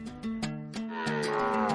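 Cows at a farm kraal of the Banyankole people in Uganda moo, a long, loud, close lowing call that swells and holds, with faint background clicks.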